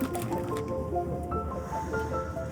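Water being poured into drinking glasses, a continuous gurgling, splashing stream close by with rising ringing tones as the glasses fill, alone for a few seconds.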